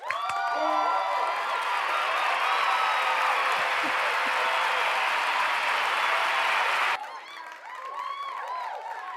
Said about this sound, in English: Let's give a big round of applause to my friend